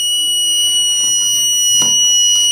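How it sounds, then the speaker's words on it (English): A PIR motion-sensor home security system sounds its buzzer alarm in a steady, continuous electronic tone, moderately loud, lasting the whole moment with faint room noise behind it and no talking. "when this sensor detect motion, we get indication through our buzzer and light is on"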